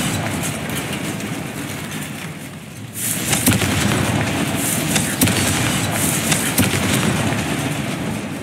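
Confringo spell explosion in the Hogwarts Legacy video game, a sudden loud burst that starts partway through, followed by crackling, rumbling fire and scattered impacts that carry on to the end.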